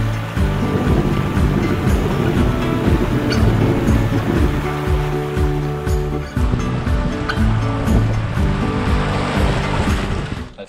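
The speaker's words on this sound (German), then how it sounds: "gibt es da extra so eine Bootsrutsche, wo man dann mit dem ganzen Kanu so wie wir sind einfach runterrutscht" Canoe slides down a boat chute beside a weir on the Dordogne: loud rushing water and hull scraping roar continuously, with wind buffeting the microphone throughout.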